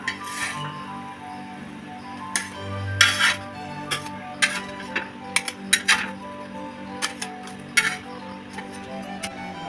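Egg bhurji puffs shifted onto a plate, heard as a run of sharp metallic clinks and ticks from utensils against dishware, irregular and close, with no talking.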